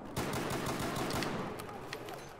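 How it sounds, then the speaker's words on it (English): Rapid gunfire from a shotgun in the shooter video game Battle Tactics, a dense loud volley of overlapping blasts running continuously with no pauses. "Oh, shotgun."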